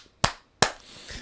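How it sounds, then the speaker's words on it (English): Two sharp claps about 0.4 seconds apart sound close and dry, followed by a faint low rustle. "give me the booty clapping sounds"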